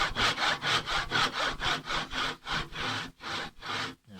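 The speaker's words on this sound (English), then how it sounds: "So we can start to bring the saw back." Hand saw cutting through wood for a corner halving joint, a steady rhythm of about a dozen rasping push-pull strokes, close and alone, slowing slightly near the end.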